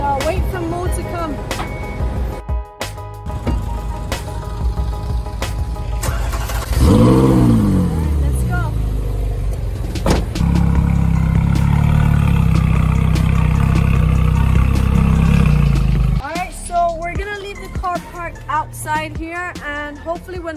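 An orange Ferrari is driven indoors, its engine revving up and then holding a loud, sustained roar before cutting off, with people talking over it nearby.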